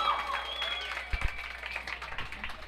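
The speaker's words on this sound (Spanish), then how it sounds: "Fuerte aplauso para esta gente que es muy tesa." Live audience applause at a Guachafita Sessions music performance, a moderate burst of clapping and crowd noise partly under a voice and fading tones.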